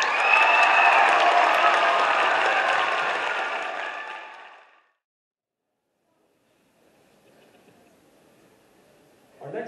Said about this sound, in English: Can you please give a round of applause for us?